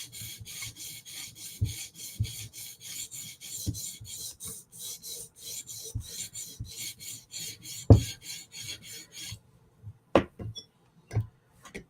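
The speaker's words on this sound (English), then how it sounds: "So this is what a quick and dirty sharpening looks like." A knife gets a quick, rough sharpening on a stone, with close, regular rasping strokes that carry on for most of the stretch, then a few scattered knocks and taps as the strokes stop.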